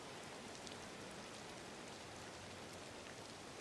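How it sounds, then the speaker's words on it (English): Soft, steady rainfall patters in the video game Disney Dreamlight Valley, a faint, continuous hiss of drops on surfaces with no other sounds or voices. "Unfortunately, it's a rainy day"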